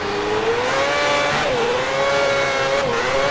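Formula 1 race car engine at full throttle in the F1 2010 video game on the Montreal circuit: a loud, steady high whine that dips in pitch at two gear shifts, with no talking.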